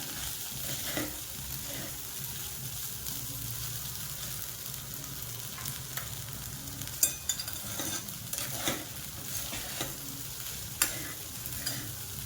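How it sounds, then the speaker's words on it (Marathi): Food stir-fries in a pan for a fasting meal, a steady soft sizzle broken by repeated scrapes and clacks of a spatula, with no talking. "थोडा वेळ 2-3 मिनिटं चांगला परतायचं याला"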